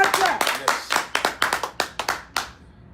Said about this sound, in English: Clap for Comrade.